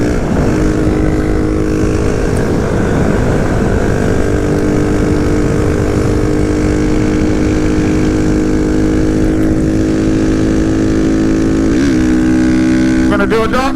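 A Honda Monkey/Grom motorcycle fitted with a CBR engine is ridden at speed, its loud, close engine whine steady under wind noise, then rising in pitch as the rider accelerates through a turn near the end.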